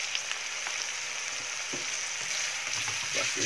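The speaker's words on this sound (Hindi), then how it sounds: "इनको अब थोड़ा सा तेल में करेंगे फ्राई" Beetroot with tomatoes fries in a little oil, producing a steady, even sizzle with faint stirring scrapes, close and fairly soft, with no talk.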